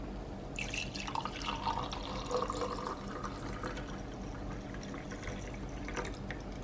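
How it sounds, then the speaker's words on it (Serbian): Celery juice poured into a drinking glass gives a steady, close liquid trickle with light splashing and dripping that runs for several seconds, with no talking. "I evo ga sok od celera koji ću da sipam ovde u ovu čašu."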